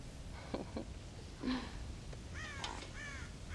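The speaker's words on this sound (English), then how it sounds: "God damn crows!" Crows caw in the video game Red Dead Redemption: several harsh calls, some single and some in quick runs, at moderate distance over a soft ambient background.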